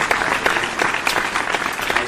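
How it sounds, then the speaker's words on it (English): An audience at an evening show breaks into brisk, sustained applause, many hands clapping at close range without any talk. "a third round of applause for Madame Adem."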